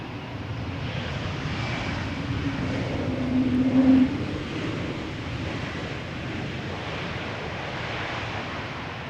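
An Embraer 190 airliner arrives at Schiphol's Polderbaan runway, its engines a broad, steady roar that swells to a peak around the middle and then eases off, heard alone at moderate distance.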